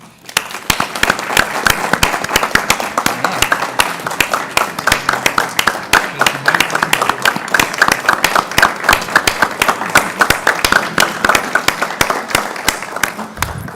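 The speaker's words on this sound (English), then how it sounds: "So I'm going to ask the audience for a huge round of applause." Sustained, loud applause from a school board meeting audience, dense overlapping clapping that continues steadily for over thirteen seconds.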